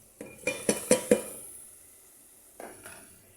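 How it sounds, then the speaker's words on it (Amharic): Washed rice tipped into a cooking pot for tomato kabsa produces several quick clattering strikes against metal, then a soft pause and one more faint rattle, close and fairly quiet. "ያጠብነውን ሩዝ እንደዚህ እንጨምራለን።"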